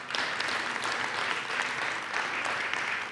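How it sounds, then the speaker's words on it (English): A conference audience gives a round of applause for a panelist joining the stage at a health data event, a steady crowd clapping that holds evenly for the whole stretch, with no speech over it. "Round of applause, please."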